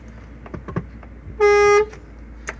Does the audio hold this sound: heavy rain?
no